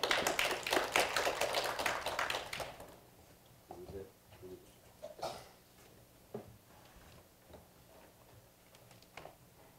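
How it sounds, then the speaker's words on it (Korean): A short burst of clapping from a modest crowd at a forum opening fades within a few seconds, leaving a quiet room with scattered small knocks. "큰 박수 부탁드리겠습니다."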